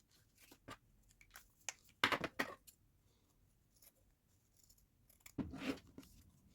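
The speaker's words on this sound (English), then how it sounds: "I am just hand drawing and cutting with the scissors." Scissors cutting black felt by hand for mixed media tags: a few short, soft snipping and crunching bursts separated by quiet pauses, close and faint.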